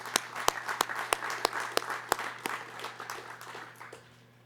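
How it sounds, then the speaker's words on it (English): Applause for the 2013 Athletes of the Year at a Winter Games press conference, with sharp separate claps standing out over a steady bed of crowd clapping that tapers off near the end. "Let's give another round of applause to all of our 2013 Athletes of the Year."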